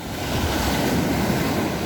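Sea waves wash onto a beach in a continuous broad roar mixed with wind buffeting, close and loud for a brief moment, with no voices.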